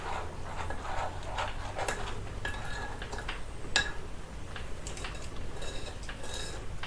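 A utensil stirs flour into peach cobbler batter in a bowl, with continuous soft scraping and occasional light clinks against the side, close and steady.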